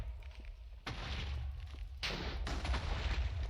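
Minecraft explosions with the blast power doubled, heard as dense, rumbling booms and crackling debris rolling in waves, loud and sustained with no talking.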